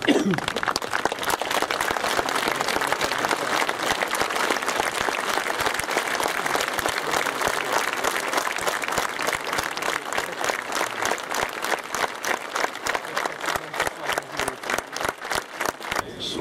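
An audience on its feet claps at length in honour of the men and women seated in the front row at an SNP 70th anniversary commemoration, dense sustained applause filling the hall, growing slightly choppier toward the end.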